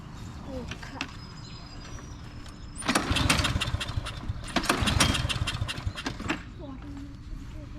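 A lawn mower with an aluminum deck and its air filter removed is pulled to start without it, giving two bursts of sputtering engine noise amid clicks and handling sounds, with someone talking nearby.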